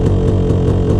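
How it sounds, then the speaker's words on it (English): Two-stroke dirt bike engine idling with a lean pilot jet, a steady low mechanical drone that swells and sags in a regular wallowing pulse about every fifth of a second, close and fairly loud with no voices. "symptom number 3 is when the engine is wallowing at low RPM or idle"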